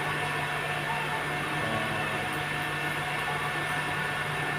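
A motorcycle idles with a steady, even mid-pitched hum and faint vibration, continuous and unchanging throughout.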